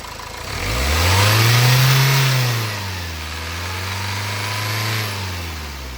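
A second-hand 2016 Nissan Terrano XL+ diesel engine is revved up from idle, rising to a loud, close roar, easing back, then swelling again in a slower second rev before settling.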